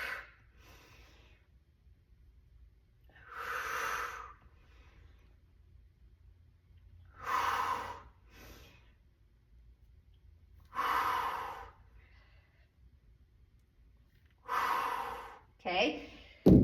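Sharp, forceful exhales during leg-day exercise reps, about five loud breaths spaced roughly three to four seconds apart, with quiet between them and no talking.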